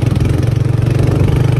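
Motorcycles riding a steep mountain road near the Pakistan–India border, with landslides along the path: a loud, close engine with a rough pulsing throb that runs steadily throughout.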